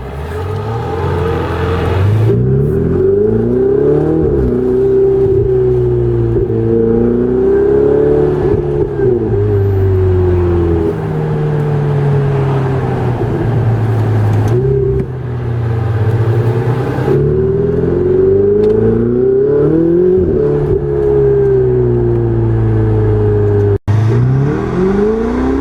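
Close and loud, a Ferrari 488 Spider engine revs up through repeated rising sweeps, with drops in pitch as it shifts and downshifts, followed by a deep rumble.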